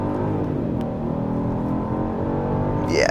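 A 2025 Genesis GV80 3.5T Prestige in sport mode accelerating hard, a steady engine drone building under load with a rising whir near the end, heard from inside the cabin.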